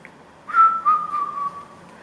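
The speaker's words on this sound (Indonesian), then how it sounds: "Bapak jalan siul-siul." A person whistles a single short, steady, slightly wavering tone for about a second and a half, loud and close, alone with no talking.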